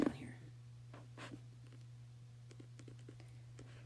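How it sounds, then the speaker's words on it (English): Pen writing on paper, faint scratchy strokes and small taps spaced irregularly over a steady low electrical hum, close and quiet. "I'll write it down here."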